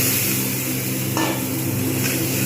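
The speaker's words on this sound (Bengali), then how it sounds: "আলুগুলো খুব ভালো করে কষে নেবো" Potatoes frying and being stirred into a thick spice masala in hot oil for a chana dal bora curry, giving a steady close sizzle with scraping stir strokes, including a brighter scrape partway through and another near the end.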